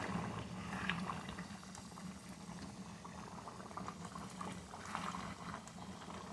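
Beef stew with ketchup bubbles in a pot, a soft, continuous low boil with small pops, close and fairly quiet, alone without talk.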